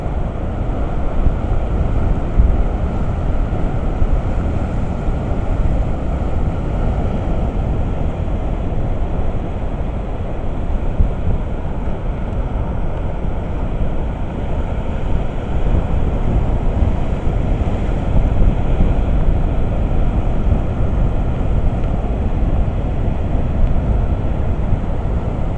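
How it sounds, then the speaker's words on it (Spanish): Rough, stormy sea breaking along the A Coruña coast near the aquarium, heard as a loud, continuous broadband roar of surf mixed with wind rumble, steady throughout with no voices. "El mar está terrible, terrible."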